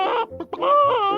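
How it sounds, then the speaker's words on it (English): A cartoon Iron Chicken clucks from inside a ball of scrap metal in the Space Clangers: two short, bright, warbling squawks close up, with no talking. "Suddenly they hear a strange sound coming from inside the ball of scrap metal. Oh dear, it sounds like the iron chicken."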